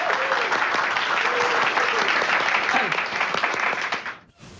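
Applause from a crowd at a police graduation ceremony, a steady dense clapping that fills the hall and then fades out abruptly at the end.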